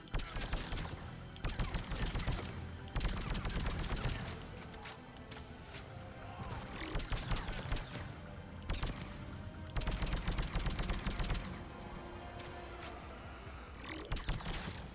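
Sustained bursts of rapid automatic gunfire from a Mass Effect Legendary Edition firefight, loud and dense with repeated volleys and brief lulls, no talking.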